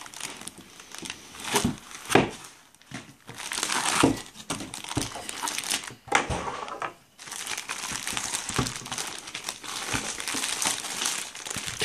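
Plastic and foam packaging around an HP ENVY 15t x360 laptop being handled, a steady close crinkling and rustling with sharper crackles and brief pauses throughout.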